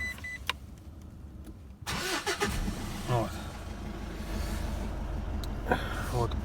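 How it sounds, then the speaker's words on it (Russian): A Mitsubishi L200 pickup engine cranks and catches, a sudden loud start rising into a steady mid-pitched running rumble, heard nearby with a few small clicks and knocks over the hum. "Завожу машину."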